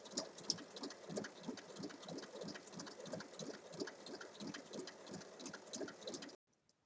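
A sewing machine topstitches around a fabric drawstring pouch, its needle running in a steady rapid rhythm of ticks for about six seconds before stopping abruptly.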